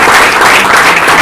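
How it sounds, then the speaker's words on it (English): Audience applause fills the room after a talk at a blues event, a dense, steady wash of clapping heard up close and without pause for the whole moment. "Can we give Rupa a big round of applause?"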